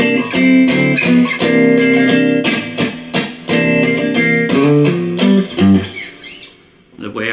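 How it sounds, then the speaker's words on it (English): Electric guitar playing minor blues rhythm chords, with short choppy percussive strums where fingers lift off the strings, a clear close sequence of chord stabs alone with no talking. "so I just lift my fingers from the strings so I get this percussive sound."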